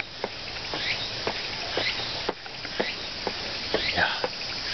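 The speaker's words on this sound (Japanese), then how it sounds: "セミが鳴いてるな。" A steady high buzzing drone of cicadas fills the grounds of Meguro Fudo temple in Tokyo, Japan, heard continuously at moderate level with faint short ticks and soft footsteps underneath.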